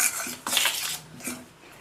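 A spoon scrapes and clinks against a pot while kaara kozhukattai dough mixture is stirred, in a few short close bursts with brief pauses between them.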